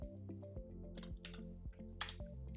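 Keys clatter on a computer keyboard during setup of a Linux web server, a quick irregular run of close, crisp clicks with a steady low hum underneath.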